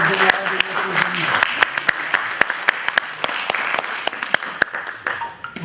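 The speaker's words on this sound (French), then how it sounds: "que je vous demande d'applaudir" Summit audience at Mohamed V University applauds with scattered, sharp claps rising and falling in bursts, mixed with a murmur of talk underneath.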